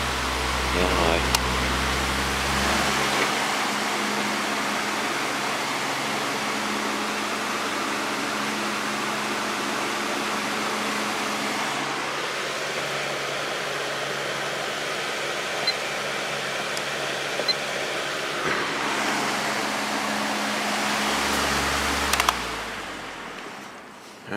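A Patton electric fan with a 1.25 amp PSC motor runs on its high speed setting, giving a steady broadband whoosh of moving air with a low motor hum, continuous and fairly loud throughout.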